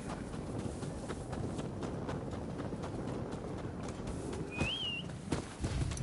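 A video-game horse trots with steady clip-clop hoofbeats over ambient background, a short whistle sounding near the end, moderately quiet.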